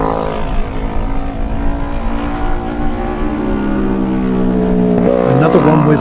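Lightweight racing motorcycles pass during a road race, their engines droning loudly and steadily before one rises in pitch near the end. A commentator's voice runs underneath.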